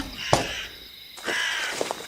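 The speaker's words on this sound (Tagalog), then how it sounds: "Narinig mo yon? Yun yung huni ng ibon na nandito kanina." A bird gives two harsh, raspy calls, a short one followed by a longer drawn-out cry, fairly close against a quiet background.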